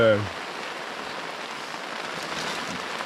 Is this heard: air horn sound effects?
no